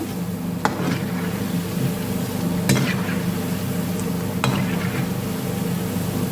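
Pumpkin and drumstick-leaf bondas frying in hot oil: a steady soft sizzle and bubbling throughout, broken by a few sharp clinks of a ladle or spoon against the pan.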